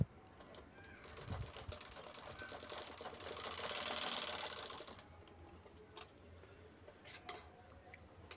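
Sewing machine stitching a bag made from saree borders, a quiet, fast needle rattle that swells into a steady run in the middle and then drops back to a few faint ticks and clicks.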